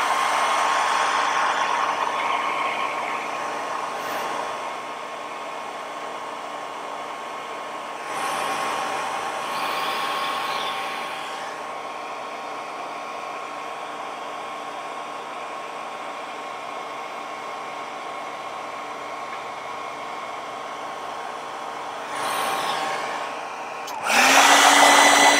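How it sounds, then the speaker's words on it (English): A hairdryer blows steadily to dry paint on a Battletech miniature, a close continuous whooshing hum that wavers in strength, with a few louder bursts. "give that a quick spritz with our hairdryer just to"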